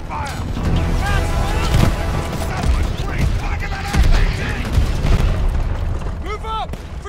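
Heavy gunfire and explosions in Call of Duty Vanguard's El Alamein battle, a continuous barrage of shots and booms with soldiers shouting over the din.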